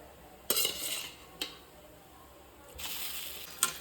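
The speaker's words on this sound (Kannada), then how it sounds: "ಈಗ ನಾವು ಗುದ್ದಿಟ್ಟಂಥ ಹಲಸಿನಕಾಯಿ ಹಾಕ್ತೇನೆ" Crushed raw jackfruit drops into a sizzling tempering in a pan, making a soft sizzle with a few scraping stirs and light clinks of a utensil against the pan.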